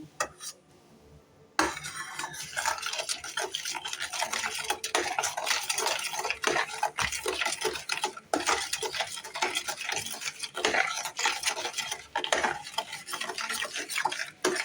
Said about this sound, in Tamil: கொஞ்சம் பொறுமையாக ஒரு 10 நிமிஷம் நல்லா கிளறுவோம்